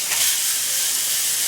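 Hamburger patties sizzling in a smoking cast iron frying pan, a steady, dense hiss that stays loud and close without a break.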